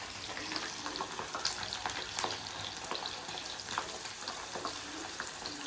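Corn fries sizzle in hot oil with a soft, steady crackle and scattered pops, fairly faint and close, with no talking.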